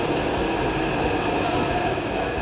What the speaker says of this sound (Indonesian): Ini kita naik kereta lagi karena dari Shilin itu naik kereta sekitar